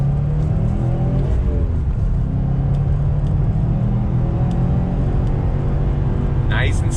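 A 2020 Subaru WRX STI's engine pulls hard on a twisty road, a loud continuous rumble rising in pitch as it revs up through the gears, heard from inside the car with steady road noise beneath.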